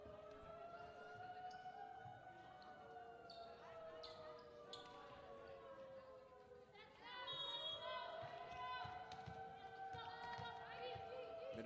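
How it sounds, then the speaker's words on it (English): Tornado sirens played from the MidAmerica Nazarene bench at a women's volleyball game, rising and falling wailing tones sounding steadily through the gym, growing louder partway through, with crowd noise and a commentator talking over them. "MidAmerica Nazarene has turned on the tornado sirens from their bench."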